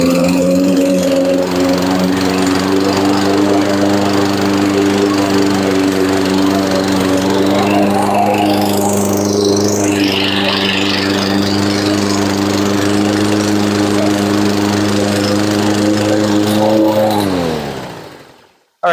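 A gas-powered walk-behind lawn mower runs at steady full throttle close by, a loud constant droning engine with a rough buzzing tone that cuts off abruptly near the end.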